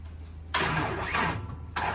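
After a brief hum, an Isuzu six-wheel truck with a 4HK1 twin-turbo diesel engine, recently imported from Japan, cranks and catches with a sudden loud burst, then settles into a rough running rumble.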